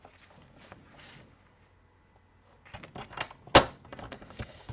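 A multi-panel paper card being folded, with crisp papery rustles and taps, a quiet pause, then sharper creasing snaps and one loud press near the end, close up and without talk.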